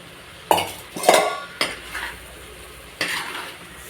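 Prawns with mango masala sautéed in a pan, with a soft sizzle and four sharp scraping, clinking stirs of a utensil against the pan, close and without talk.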